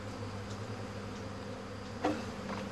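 A swarm of honey bees arrives at a hive, a dense continuous buzzing hum close by, steady throughout with a brief louder flare near the end.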